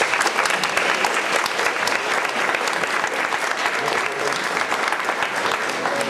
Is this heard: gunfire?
no